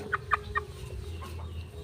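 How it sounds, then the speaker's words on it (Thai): A chicken found in a rice field clucking: three quick, soft clucks near the start, then quieter calls over steady low background noise. "ไก่ตัวนี้ ค้ำคูณ ครับค้ำคูณจริงๆเขาเลี้ยงน้องครับ"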